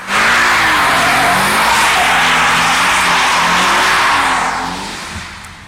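A Subaru BRZ's boxer engine roars through a hard launch from standstill while tires squeal and screech continuously, then fade slightly at the end.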